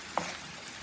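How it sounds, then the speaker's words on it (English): Squash with ground beef and onion sautés in a pan, giving a faint, brief sizzle with one small pop near the start. "now I'm sauteing that squash with the"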